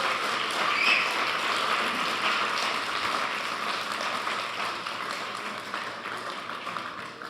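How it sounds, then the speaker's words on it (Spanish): A church congregation applauds steadily throughout: a soft, dense wash of clapping from many hands, heard at a distance and fairly faint, with no pauses. "Le damos un aplauso de bienvenida en nuestro corazón a esa palabra"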